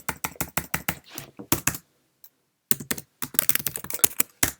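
Computer keyboard keys typed in bursts of quick clicks while entering commands in a terminal, with a short pause in the middle before a faster run of keystrokes, close and clear.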